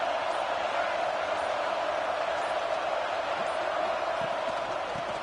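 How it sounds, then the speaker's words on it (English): A fired-up stadium crowd at a football game roaring as a constant, even wash of distant noise, with no distinct cheers or claps standing out. "It's early, but this crowd is fired up. Listen to this noise here."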